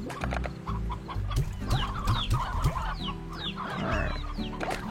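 Hens clucking in a video game, a busy run of overlapping clucks and short squawks close up, with a steady background hum underneath and no talking.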